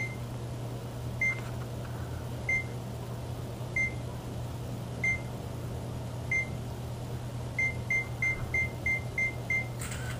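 A camera self-timer set for ten seconds beeps at a steady slow rhythm, then speeds into a rapid run of beeps before the shot, faint and thin over a constant low room hum.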